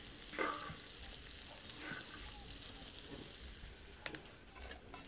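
Potatoes with garlic fry on a disco griddle as they are stirred, a steady faint sizzle with a few scraping strokes and clanks over it.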